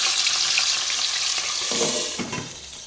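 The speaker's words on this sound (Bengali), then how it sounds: "পাবদা মাছটা তেলে দিয়ে ভেজে নিচ্ছি। দেখো তেলের সাথে ওরা যুদ্ধ করছে।" Pabda fish frying in hot oil in a kadai for guests, a steady dense sizzle with spitting crackle, close and loud, easing slightly toward the end with a few clinks.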